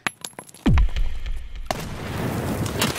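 Grenades go off in a video game: small clicks and taps, then a heavy booming blast with a falling rumble, followed by a second burst that spreads into a long noisy roar.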